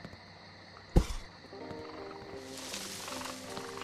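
A sudden sharp thud is followed by scuffling and a rising, hissy rustle as a raccoon makes noise in a spooky night-shift video game, fairly close and without talk.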